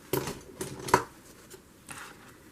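Scissors snip through paper to cut out a small printed chick picture for a nature journal, giving a few short, quiet crisp cuts spaced apart at close range.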